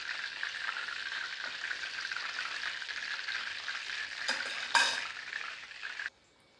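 Chicken lollipops (drums of heaven) deep-frying in hot oil as a second batch, giving a steady, loud, dense sizzle with a brief flare of crackling near the end before it cuts off abruptly.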